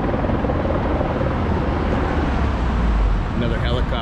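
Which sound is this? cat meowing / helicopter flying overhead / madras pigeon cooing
helicopter flying overhead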